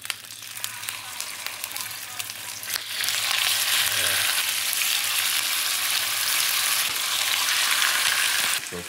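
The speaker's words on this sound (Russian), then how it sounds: "Сковородочка зашкварчала" Meat frying in a pan, a steady loud sizzle that jumps up sharply partway through and then holds as a constant hiss, close by.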